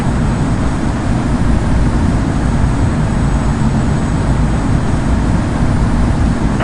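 Simulated Airbus A220 on landing approach in Infinite Flight, a steady loud broadband engine and airflow roar holding evenly throughout with no talk.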